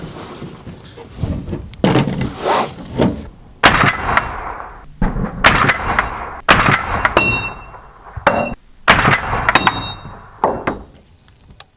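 A rifle fires a series of sharp, loud shots spaced a second or two apart outdoors, each with a hard crack and brief decay, between quieter stretches of handling noise.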